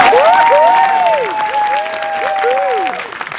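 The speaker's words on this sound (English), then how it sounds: "Give yourselves a round of applause" Audience applause at an awards ceremony, steady clapping with a few cheers, while a loud voice calls out over it near the start and the clapping fades slightly toward the end.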